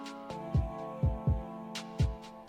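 A beat with panned snares over a soft atmospheric pad, steady rhythmic hits with low thumps roughly every half second and bright snare cracks scattered across the stereo field, fairly quiet throughout.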